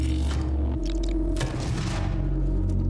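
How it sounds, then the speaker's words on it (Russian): Heavy booming burst fire from a micro-grenade launcher in Doom (2016), deep rumbling blasts rolling one into the next, loud and close, with no voices. "Шквальный огонь. Микрогранаты."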